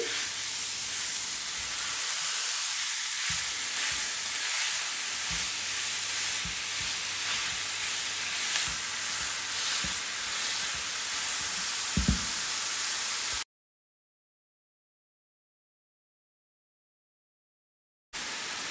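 Minced meat sizzles steadily in a hot pan while a spatula breaks it up and stirs it, giving scraping knocks and taps over the continuous frying hiss, then a pause of silence.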